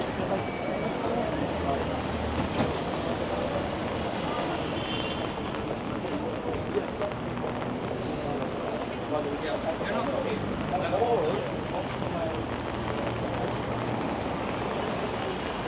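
Rain falls on a busy downtown Toronto street at night, making a steady wash of patter mixed with city hum, with a crowd murmuring in the background throughout.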